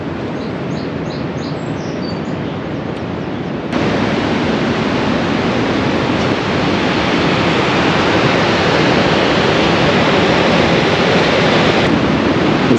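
Creek water flowing steadily at the Vermont–New Hampshire line by Woodsville, a loud dense broadband rush that swells louder after a few seconds and holds constant, with no voices.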